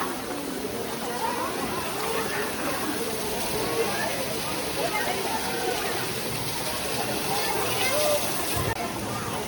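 Cold mountain water rushes and splashes steadily as someone bathes in it on the route down from Vaishno Devi, loud and continuous, with voices murmuring under the spray.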